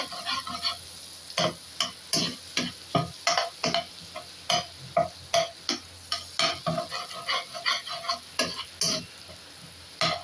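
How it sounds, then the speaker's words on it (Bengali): Butter mixed with a little soybean oil fries in a pan for fried rice, with a quiet background sizzle under a steady run of sharp, rhythmic spatula scrapes and taps close by. "বাটার দেওয়ার সময় সবসময় একটুখানি সোয়াবিনের তেল মিক্স করবেন, না হলে বাটার পুরাটা উড়ে যাবে। বাটারটাকে ফ্রাই নিন।"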